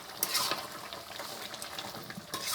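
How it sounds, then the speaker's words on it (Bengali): Chicken skin with spices being stirred in a pot over a clay village stove, a few scraping stirs of the spoon against the pot alongside a steady sizzle close by. "ঢাকনাটা সরিয়ে দুই থেকে তিনবার এভাবে নাড়াচাড়া দিয়ে দিচ্ছি"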